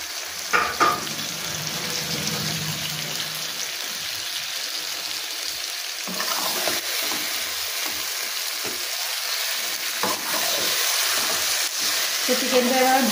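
Chicken pieces dropped into a fried spice masala in a pan, sizzling steadily and stirred with occasional scrapes and clatters, close and continuous.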